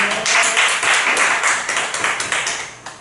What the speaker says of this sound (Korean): 우리 하나님 앞에 영광의 박수 칩니다